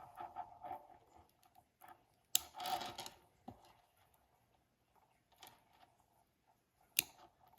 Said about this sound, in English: let me cut my strands open